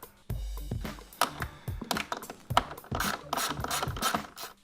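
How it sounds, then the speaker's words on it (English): Rapid ratcheting clicks and metallic scrapes from a 10mm ratchet socket working loose grille fasteners on a Ford F-150, in uneven bursts up close with no talking. "Grab yourself a 10mm socket and we need to remove the 2 fasteners"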